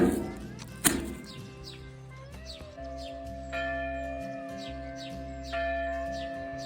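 Church bells ring out in a series of resonant strikes, a sharp clang near the start and layered tolling that swells at intervals, with faint birdsong in the background.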